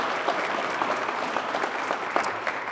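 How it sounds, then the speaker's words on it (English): An outdoor Memorial Day crowd at Pioneer Park in Fairbanks, Alaska, claps for the 11th Airborne Division Band, giving steady, moderately loud applause with scattered sharper claps. "How about a round of applause for them?"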